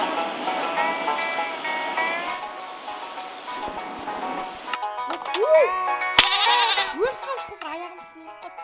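A sheep on a Minecraft farm bleats in the video game in several wavering calls that grow louder toward the end. Game sound effects and background noise accompany the calls, and no other animals are heard.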